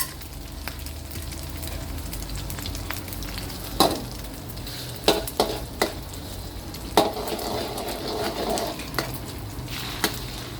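Continuous sizzling of beaten eggs frying in hot oil for a vegetable omelette, with several sharp clicks and scrapes of a utensil against the pan.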